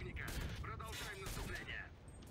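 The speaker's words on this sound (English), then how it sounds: "Someone shooting at me?" Faint bursts of gunfire in a first-person shooter video game, rapid overlapping shots from some distance, mixed with voices talking.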